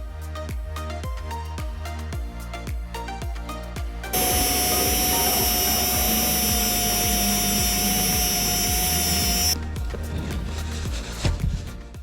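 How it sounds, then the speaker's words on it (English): A steady, loud high-pitched whine of a small electric drill running for several seconds, set between stretches of rhythmic background music. "So I ordered this electric drill from Amazon."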